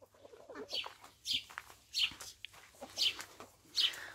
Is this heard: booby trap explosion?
no